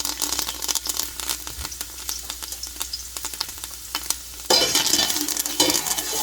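About four cloves of garlic and some thyme frying in oil in a pot, a constant crackling sizzle with clicks of stirring, growing louder and brighter near the end.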